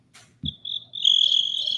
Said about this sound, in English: Go eat those crickets over there.